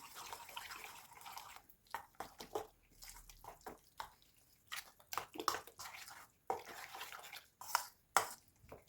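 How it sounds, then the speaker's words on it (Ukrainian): Wet, sticky squelching and scraping in irregular bursts as a thick liver patty mixture with fried onion and carrot is stirred in a bowl, close up. "Все гарно перемішуємо."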